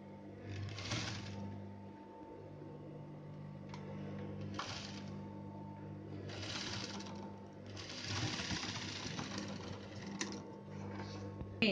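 A sewing machine stitches a sleeve in repeated bursts of rapid mechanical chatter separated by brief pauses, loud and close with a steady hum underneath.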